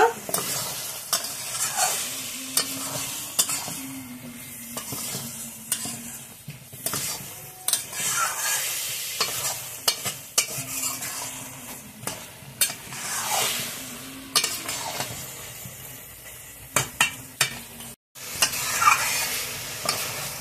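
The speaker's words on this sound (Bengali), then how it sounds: "এখন কুমড়োটাও ভালোভাবে কষিয়ে নেব।" Pumpkin is stir-fried in a pan for chicken curry, with a continuous crackling sizzle and repeated scraping spatula strokes. Clinks and a short gap near the end, close and fairly loud, no speech.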